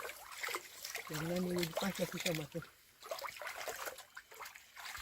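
Muddy water trickles and splashes around legs as someone wades through a murky stream, soft sloshing under nearby talking and a brief hum.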